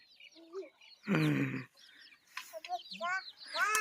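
Free-range country chickens cluck and chirp in a yard, with short calls scattered over a few seconds and a person talking among them.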